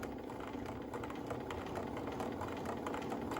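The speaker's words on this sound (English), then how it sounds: "you can stitch usually as slowly or as quickly as you'd like to on the machine" A Bernina Activa sewing machine stitches a seam at a steady pace, its soft, even mechanical whir and faint needle ticking running quietly throughout.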